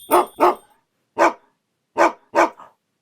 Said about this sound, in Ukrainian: Я чую гоп-гоп собаку.